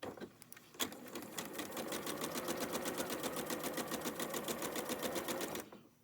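A sewing machine runs steadily for several seconds, stitching quilt squares for a prairie flower block in one continuous fast run, close and loud, then stops.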